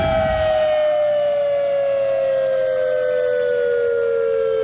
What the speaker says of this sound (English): That's Hawaii's nuclear warning system.